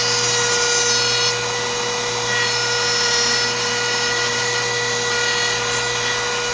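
A rotary tool fitted with an aggressive burr whines at high, constant speed while carving small wooden tree branches, a loud, steady motor tone with slight grinding variations as it cuts.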